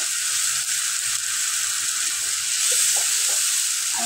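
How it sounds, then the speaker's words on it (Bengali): Onion paste frying in oil in a pan for a lobster malai curry, a soft steady sizzle heard up close, with a few faint scrapes of stirring toward the end and no voices. "পেঁয়াজ বাটা দিয়ে পেঁয়াজটা আমি একটু কষিয়ে নেব"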